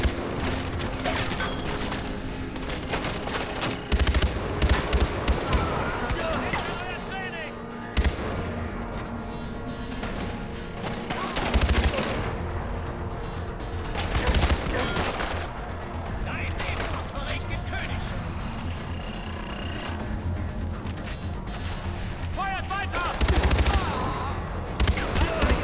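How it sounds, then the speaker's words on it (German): Rapid gunfire bursts in the Far Cry 4 video game, repeated volleys and automatic fire crackling throughout amid game sounds, fairly loud and dense with occasional louder spikes. "die Schüsse von denen, die sitzen einfach nur."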